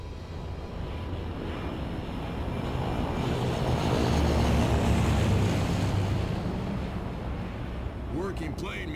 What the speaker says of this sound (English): Working plane means working airport.